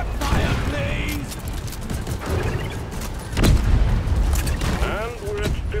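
Bursts of support gunfire and booms crackle in the Deep Rock Galactic video game, dense and loud throughout with mechanical clatter, while voices speak over the battle.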